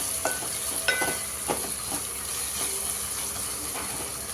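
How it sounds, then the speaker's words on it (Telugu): Onions fry in a pan with a continuous sizzle while a utensil stirs and scrapes in short clinks, all close by. "ఆనియన్స్ అయితే మనకి బ్రౌన్ అవుతున్నాయి, ఇంకొంచెం బ్రౌన్ కావాలి."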